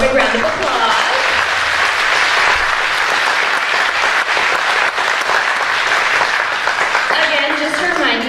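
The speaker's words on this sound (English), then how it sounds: "Let's give them one more big round of applause." Loud, sustained applause from an audience after a dessert concert performance, a dense wash of clapping that fills the whole stretch with cheering mixed in.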